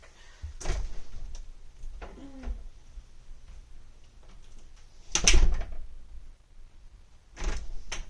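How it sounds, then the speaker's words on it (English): A house door is slammed shut with a sharp thud, set among a few quieter knocks and handling sounds indoors. "As I slam my door, so sorry."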